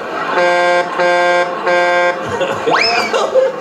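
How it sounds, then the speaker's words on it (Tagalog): Three loud, sustained buzzer-horn blasts of equal length sound in a row, followed by a rising whistle-like sweep and some background chatter. "bago po yung busina ulit"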